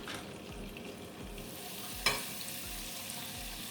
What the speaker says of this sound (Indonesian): Ini kita panaskan lagi, kita beri butter atau mentega